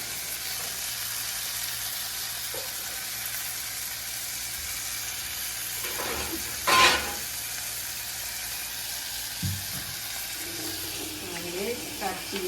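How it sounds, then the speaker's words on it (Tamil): Ingredients for Sri Lankan prawn curry sizzle and fry in a clay pot. A steady soft hiss runs throughout, with a few stirring knocks and brief clatters, and a voice speaks faintly in places. "இப்போ அது வதங்கி கொண்டிருக்கட்டும்"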